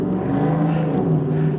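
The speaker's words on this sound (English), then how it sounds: "this car is backing up illegally across the street like that" A car backs up across a downtown street, its engine a steady low hum with a slight rise in revs, fairly close and loud, with no voices over it.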